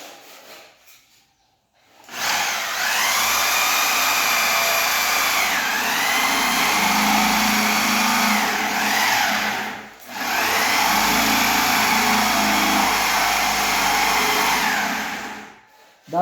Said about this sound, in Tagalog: bubutasan natin dito para sa ating barrel. So ito yung sentro sa ating butas dito sa ating doorknob